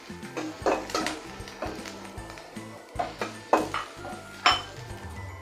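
A spoon stirs fish coated in ground green chili paste inside a metal pot, giving irregular clinks and scrapes against the pot, with a few sharper knocks standing out over a low kitchen background.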